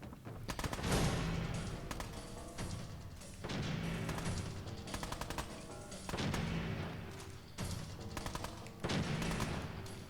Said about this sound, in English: that's Preston shooting out of the second floor